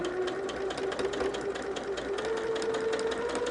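A sewing machine runs steadily while stitching holiday quilt pieces together, a continuous close mechanical whir with a fine rapid needle rhythm, no talking over it.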